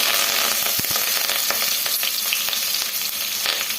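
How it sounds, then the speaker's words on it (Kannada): A tempering of cumin seeds, mustard seeds and dry red chillies with curry leaves sizzles loudly in hot oil, a dense continuous crackle with sharp pops and stirring scrapes, no talking. "ಜೀರಿಗೆನೂ ಸೇರಿಸಿ ಒಗ್ಗರಣೆ ಮಾಡ್ಕೊಳ್ಳೋಣ."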